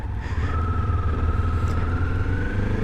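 A Kawasaki Z400 motorcycle being ridden, its engine a steady mid-pitched drone with a faint rising whine and low rumble, continuous and close throughout with no voices.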